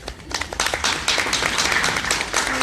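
Audience clapping at the 2017 Cleveland mayoral race debate, a brief burst of individual claps from a modest crowd, close and sharp, rising after a soft start and continuing at a fairly even level.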